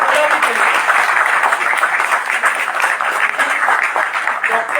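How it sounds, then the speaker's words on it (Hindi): A large audience applauds a doctor at an Indian Bar Association felicitation event: dense, steady clapping fills the whole stretch without letting up. "मैं चाहूंगा जोरदार तालियों से डॉक्टर अभय कलानी के लिए।"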